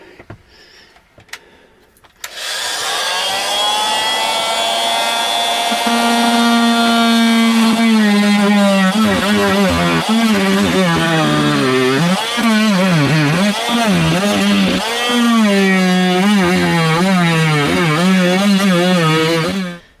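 An oscillating multi-tool blade cutting into the interior wall of a 320S RV, a loud close whining buzz that kicks in sharply after a few faint clicks and holds steady while its pitch wavers under load.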